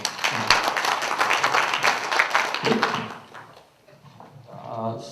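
Delegates at a labor union general assembly clap in approval of a bylaw amendment, a dense burst of applause for about three seconds that fades into quiet room tone with faint voices.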